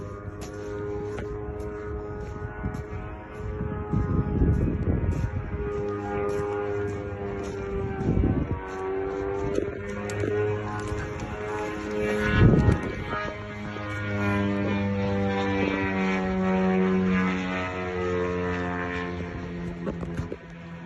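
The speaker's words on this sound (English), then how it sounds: "all of a sudden started to hear this incoming drone" An incoming attack drone flying over houses gives a loud droning engine whine with rising and falling harmonic tones, swelling and fading for about twenty seconds over wind and outdoor rumble.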